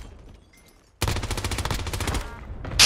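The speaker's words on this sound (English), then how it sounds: "that's a loud gun" A sudden burst of rapid automatic gunfire in a shooter video game follows a quiet moment. The loud, dense volley fires in quick succession and runs to the end.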